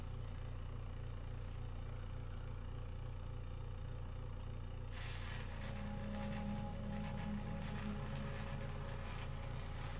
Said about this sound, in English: Engage the pump, engage the arm.